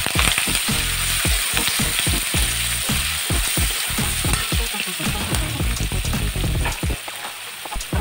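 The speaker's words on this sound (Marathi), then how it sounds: "कांदा पण आपल्याला लालसर गुलाबी होईपर्यंत परतून घ्यायचा आहे" Chopped onion and curry leaves sizzling hard in a hot pan, a loud continuous crackle broken by frequent scraping strokes of a stirring spoon.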